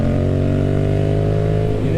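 A 2021 Yamaha MT07 is cruising in fourth gear at 55 mph, giving a steady, loud engine drone with a thick layered hum, mixed with rushing wind noise throughout.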